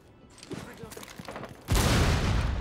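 A grenade explosion and burst of gunfire in the video game Rainbow Six Siege, a sudden loud blast erupting after quieter muffled shots and lingering as a dense rumble.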